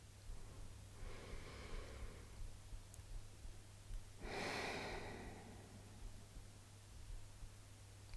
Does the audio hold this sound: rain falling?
no